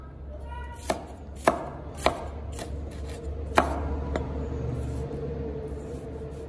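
A knife chops a tomato into small pieces on a cutting board, several crisp, separate thuds at an uneven pace, close and clear over a low background hum, no talking.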